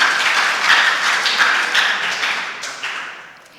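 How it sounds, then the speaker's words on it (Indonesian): Applause from a church congregation during a worship service, a dense burst of many hands clapping close by that gradually thins and fades out toward the end, with no talk over it. "Tepuk tangan dulu buat Tuhan."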